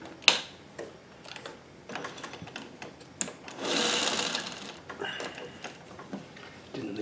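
A Singer 301A sewing machine stitching a shirt gives short, close bursts of rhythmic mechanical whirring and ticking, with a longer run in the middle and quiet clicks between.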